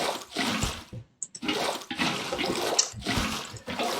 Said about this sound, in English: We're gonna have the sounds of Minecraft water buckets in our nightmares tonight.